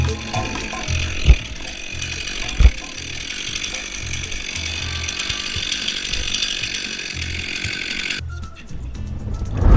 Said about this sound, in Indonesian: Gara-gara gesekan yang disebabkan mesin gergaji yang begitu panas, pohon ini akhirnya terbakar saat ditebang